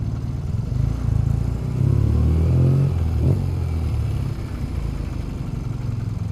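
A 1979 BMW R65 motorcycle engine pulls steadily while being ridden in South Africa, giving a continuous, fairly loud low drone with slight surges in level and no talk.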